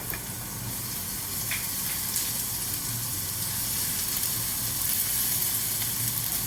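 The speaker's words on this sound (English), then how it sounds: "Once the pan is hot, put in some oil. It's hot now. Put in your ginger." Ginger hits hot oil in a pan with a steady, bright sizzle and crackle, moderately loud and continuous, with a few faint clinks of utensils.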